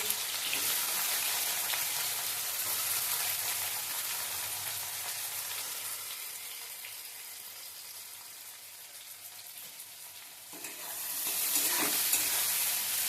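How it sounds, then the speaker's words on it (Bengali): Onion and garlic fry in hot oil in a wok for a chicken kosha, giving a continuous hissing sizzle that dips slightly in the middle and swells again near the end. "এটাকে লাল লাল করে যতক্ষণ না ভাজা হয়েছে ততক্ষণ ভেজে নেবো।"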